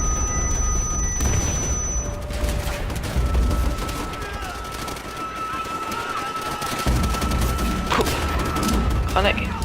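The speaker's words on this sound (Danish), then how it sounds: "Granat." In a WW2 video game, bursts of gunfire and low booms from grenades and explosions rumble over one another, loud and busy throughout, with voices talking over the combat.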